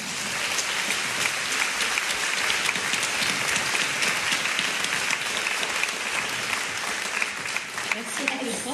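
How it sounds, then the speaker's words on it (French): Sustained audience applause fills a festival talk on ecofeminism, dense and steady from start to finish with no pauses and no speech over it. "Peut-être qu'on vous applaudir encore une fois."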